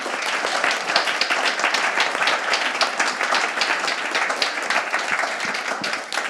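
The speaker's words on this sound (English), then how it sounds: "Please join me in giving our speakers a massive round of applause." Sustained applause from a conference audience at a retrofit industry event on carbon and materials, dense steady clapping from many hands filling the room for several seconds at an even level.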